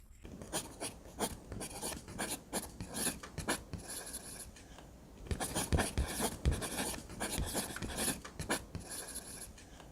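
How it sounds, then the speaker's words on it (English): Pencil-drawing animation with an eraser scrubbing across paper: quick, close, rhythmic rasping strokes in bursts, a brief pause midway, then more vigorous rubbing. "Please erase this part."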